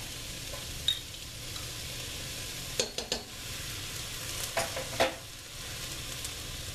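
Vegetables with minced garlic and Italian seasoning sauté in olive oil, giving a quiet, steady sizzle, with a few sharp utensil taps and scrapes against the pan in between.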